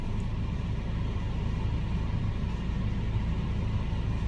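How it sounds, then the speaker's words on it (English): Steady low engine rumble of a tractor bush hogging at a distance down in a hillside bottom, droning continuously without pauses or voices. "His tractor's down there in the bottom."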